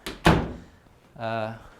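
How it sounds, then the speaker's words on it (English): A toilet room door in a staged house pushed shut with a single solid thunk, followed by a short creak or scrape, with a voice heard briefly before it. "probably just gonna close this toilet room"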